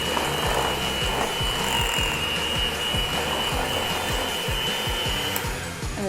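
Butter and cream cheese are beaten together for cookie dough under a steady, close electric mixer whir, with rhythmic thumping from the beaters throughout.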